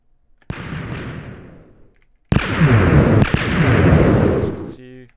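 A video game cannon fires twice in succession, each shot a sharp loud boom followed by a long rumbling roar, the second blast heavier and sustained before fading.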